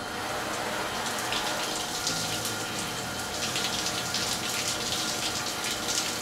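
Water runs steadily from a tap, wetting a leather first base baseball glove; a constant, moderately loud splashing hiss with no voices.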